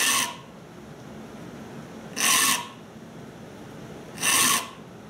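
A file is drawn across the teeth of a dovetail saw in three separate rasping strokes, each lasting about half a second with quiet pauses between. The strokes are close and crisp, and nobody talks.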